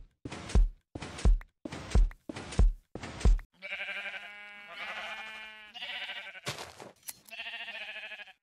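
Sheep in Minecraft on a sheep farm: five short sharp clicks or steps in a row, then several distinct wavering bleats, loud and close, with no talking.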